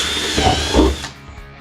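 A power drill whirs steadily, boring holes in a plastic compost bin for about a second, with a brief rise in pitch before the motor stops and winds down.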